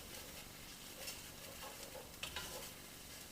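Lentils sautéed in a small pot, a soft continuous sizzle and hiss with faint stirring scrapes, quiet and close, no voices.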